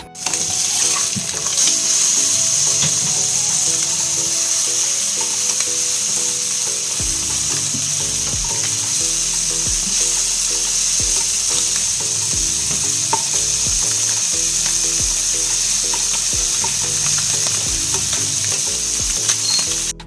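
River fish fry in an Indalium pan with a loud, continuous sizzle that lasts the whole stretch, broken by occasional clinks and low stirring sounds, with no one talking.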